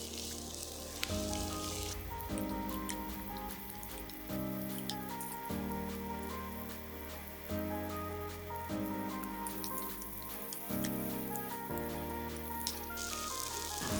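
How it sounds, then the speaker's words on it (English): Ginger and spring onions fry in a pan with a steady, close sizzling hiss that stays even for the whole stretch, under a backdrop of soft instrumental music. "Fry this ginger and spring onions for about 2 to 3 minutes to help it release its flavor"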